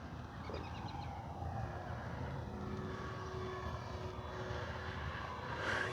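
An FMS T-28 Trojan 1.4 m RC model airplane flies at full throttle, its electric motor and propeller droning steadily overhead at moderate distance, rising slightly toward the end with no talking.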